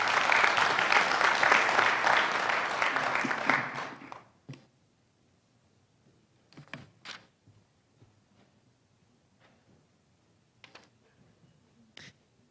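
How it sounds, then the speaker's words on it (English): Audience applause for student and alumni panelists at a summit, a steady clapping burst lasting about four seconds before fading into a quiet room with scattered small taps and shuffles. "if we can please give them a round of applause for coming out today."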